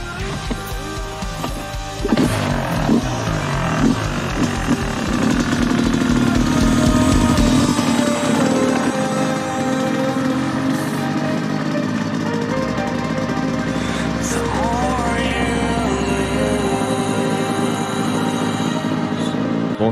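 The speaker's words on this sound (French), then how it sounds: "les premiers tours de roue avec la moto neuve" A new motorcycle's engine revs and idles nearby, rising and falling in pitch as the bike pulls away and rides, loud and buzzing throughout.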